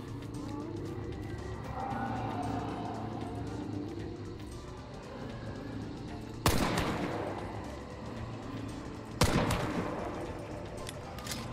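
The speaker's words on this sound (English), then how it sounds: "These were two shots with the nitro." Two loud, sharp Nitro rifle shots in the video game Hunt: Showdown, several seconds apart, each with a ringing tail, over a steady ambient game bed.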